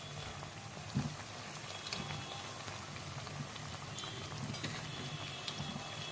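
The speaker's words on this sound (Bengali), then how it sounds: "ধিমে আঁচে ভেজে নেবেন।" Pinwheel samosas frying in oil over low heat give a soft, even bubbling sizzle, continuous and fairly quiet, with one brief knock near the start and no voices.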